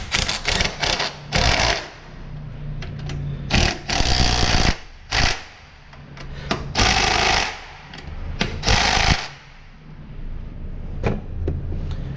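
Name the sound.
impact gun driving bolt on engine mount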